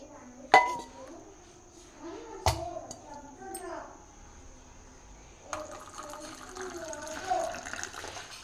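Filter coffee is poured into a cup of milk and sugar. There are a few sharp clinks, then a gentle splashing pour, with someone talking over it.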